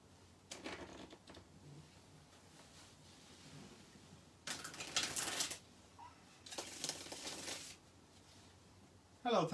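Tarot cards shuffled by hand in several short riffling bursts separated by brief pauses, close and fairly loud, with a final quick snap at the end.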